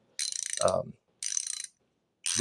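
Slim DeWalt mechanics' ratchet from a 205-piece set clicking as it is worked, two close bursts of fast rapid ratchet ticks separated by a pause, with a brief handling thud between, no talking.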